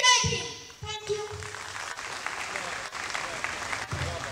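Applause builds for a little girl, Reva, at an award distribution ceremony, with scattered claps swelling into steady crowd clapping after a voice, and some talking mixed in.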